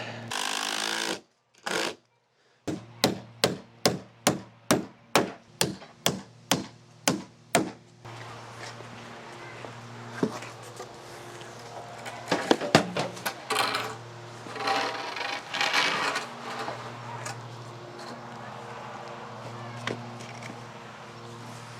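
Screws and nails go into wood while a shed wall is built: a run of about a dozen sharp, evenly spaced bangs, then a whirring power tool with scattered knocks, close and fairly loud.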